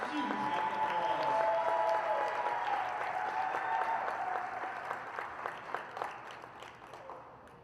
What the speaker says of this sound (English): give our 2025-26 TE Women's Basketball Senior Class a huge round of applause